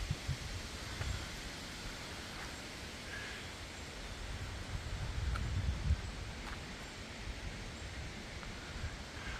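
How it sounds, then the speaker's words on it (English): Strong gusty wind from Hurricane Ian blowing over an outdoor loft, a steady broadband rushing with low rumbling buffets against the microphone, swelling in the middle and moderately loud throughout, with no talk. "At least it's not raining, it's just windy."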